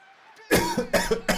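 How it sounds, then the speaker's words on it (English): A person eating almonds coughs hard several times in quick succession, loud and close, with no talk over it. "I just coughed almonds everywhere"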